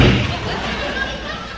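A vocal imitation of a car door being slammed after climbing out of the car: a single loud thump at the start, followed by a noisy, fading rumble with no spoken words.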